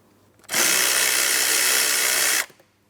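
A power driver with a 7mm socket whirs steadily for about two seconds, loosening the hose clamp on the air inlet hose of a 2004-2008 Pontiac Grand Prix 3.8L V6, loud and close, starting and stopping abruptly.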